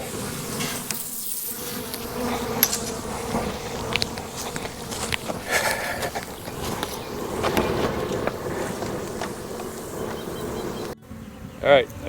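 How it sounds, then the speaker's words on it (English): A honeybee swarm drones in a steady, dense buzz close by, with footsteps and a little handling noise mixed in before a brief quieter break. "That swarm right there."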